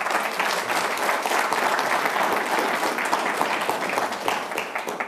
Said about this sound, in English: I think we should give them and ourselves a round of applause.